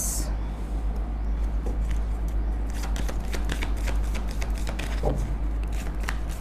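Tarot cards are shuffled close up, giving a continuous soft riffling and flicking over a low steady hum, with brief faint talk.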